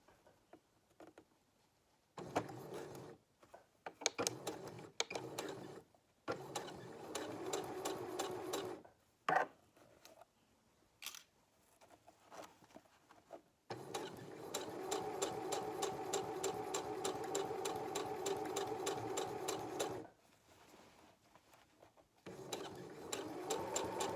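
A sewing machine stitches a zipper tape into culottes in several short bursts, then one long steady run of rapid needle clatter, close and fairly quiet, with no talking.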